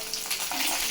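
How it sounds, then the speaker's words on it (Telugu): Dried red chillies frying in a pan of oil with chana dal, garlic, cumin, mustard and fenugreek for a spring onion pickle, a steady close crackling sizzle with soft stirring throughout. "ఎండుమిర్చి వేగిన తర్వాత బాగా వేసుకోవాలి"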